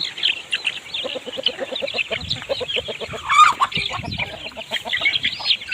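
Chickens cluck near at hand during evening feeding of ducks and chickens at a home in Ban Non Sung. A busy flock keeps up overlapping, rapid clucks and squawks with no break.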